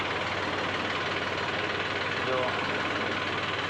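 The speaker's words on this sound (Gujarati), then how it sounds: "બંધ કરી દે ટ્રેક્ટર" Tractor engine running near a market yard, a low steady rumble that stays constant throughout while a voice speaks briefly over it.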